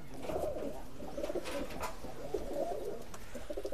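Omani Teddy pigeons coo in a high-flying pigeon loft, several overlapping low rolling calls repeating in bursts, close by, with occasional wing or shuffling sounds.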